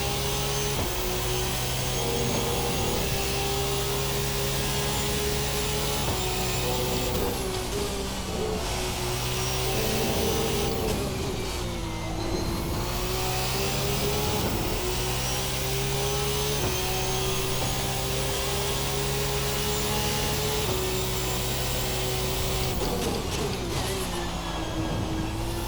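Formula 2 race cars with single-turbo engines scream around a circuit in Austria, their loud, sustained whine rising and falling as the cars shift and pass, with no talking.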